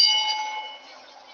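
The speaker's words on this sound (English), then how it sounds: "You can hear the bell, Booker." A wrestling ring bell at an NXT No Mercy event gives one struck tone that rings on and slowly fades, a bright sustained metallic hum heard alone.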